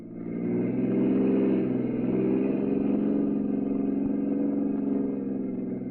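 A car engine runs steadily at mid pitch, pulling away and holding a continuous drone for several seconds with no voices over it.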